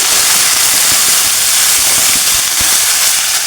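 Onion goes into a hot pan with golden-browned garlic for a turnip and pea sabji, giving a loud, continuous, close sizzle with a dense hiss and faint crackles throughout.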